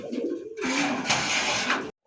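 A pigeon at a seller's loft of local and foreign fancy breeds coos close by in a steady, throaty run, with nobody talking.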